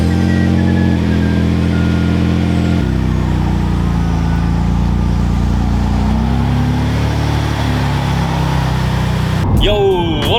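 A Mitsubishi Galant VR-4 cruises along a foggy road, its engine droning steadily and loudly with gradual shifts in pitch, and a few sharp squeaks near the end.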